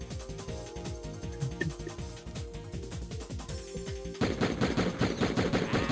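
Rapid rattling gunfire in the Die Hard video game, continuous dense bursts of shots over a game soundtrack, growing louder toward the end.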